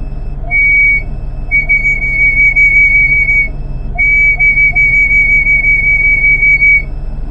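An improvised PVC pipe whistle, used to call pigeons and lovebirds, sounds two long, steady, loud high-pitched tones, each lasting about three seconds, over a low background hum.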